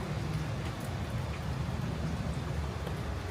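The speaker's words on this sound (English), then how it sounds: "a couple days of this heavy rain and this wind" Heavy rain drives down during an atmospheric river storm in Oregon, with wind behind it, a dense, constant patter and roar with low rumbling gusts, close and unbroken, and no voices.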